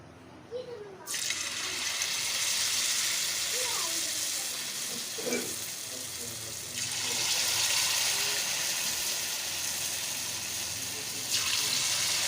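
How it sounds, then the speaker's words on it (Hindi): Potato and cabbage pakoras dropped into hot ghee in a kadhai, giving a loud, steady hiss of frying that swells as more batter goes in, with faint clinks and stirring beneath. "ये देखें कढ़ाई में मैंने घी को अच्छी तरीके से गरम कर लिया है। अब मैं इसमें पकोड़े डालूँगी।"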